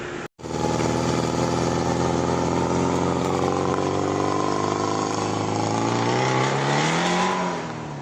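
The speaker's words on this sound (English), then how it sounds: "Now, God knows what kind of motor that is, but it's a three-wheeler." A three-wheeler motor vehicle droning past on a village road near an old church, loud and steady engine hum with its pitch rising toward the end before dropping off.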